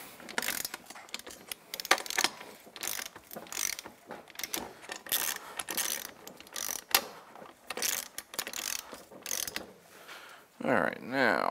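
Ratchet seating the front wheel nuts on a 2012 Honda Rancher TRX420 ATV, a busy run of quick metallic clicking bursts close by, with a brief tonal squeak near the end.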